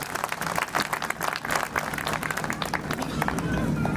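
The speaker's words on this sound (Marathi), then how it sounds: "ह्याच्याकरता मला वाटतं एक सर्वांकडून जोरदार टाळ्या होऊन गेल्या पाहिजे" A hall audience gives steady, dense applause at a Rotary Bhushan award ceremony honouring Dr. Sunil Shewale for forty years of service. The clapping is fairly close and continuous throughout, with some voices mixed in.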